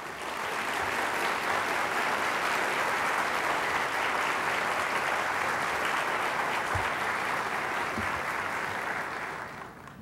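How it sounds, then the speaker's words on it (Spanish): A conference audience at a Banco Central ethics day event welcomes a speaker with loud, sustained clapping that holds evenly for several seconds before tapering off. "recibamos con un fuerte aplauso a don Federico Enríquez Graterol"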